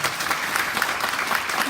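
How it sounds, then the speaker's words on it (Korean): Brief burst of audience applause at a Korean medical association meeting, dense, even clapping from many people throughout less than two seconds, fairly loud and close. "박수 한번 보내주시기 바랍니다"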